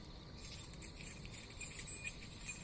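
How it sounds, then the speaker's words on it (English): A bunch of keys jangles and clinks softly and close up, with small repeated metallic rattles over a quiet background. "There's just a lot of keys to go through."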